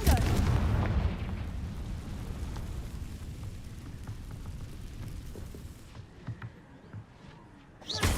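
A Confringo fire-blast spell explodes in the video game Hogwarts Legacy, opening with a loud, booming blast that fades into a long, crackling rumble, with a few scattered pops and a second burst near the end.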